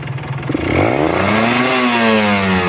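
A two-stroke motorcycle engine revs up from idle, its buzzing pitch climbing and holding high, loud and close with no talk.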